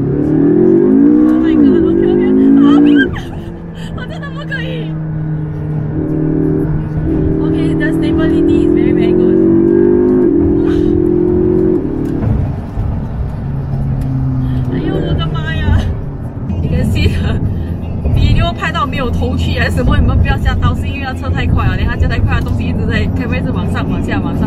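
A GT3-kitted McLaren MP4-12C sports car driven fast, heard from the cabin as a loud engine drone that rises and shifts pitch across several gear changes, with voices talking over it.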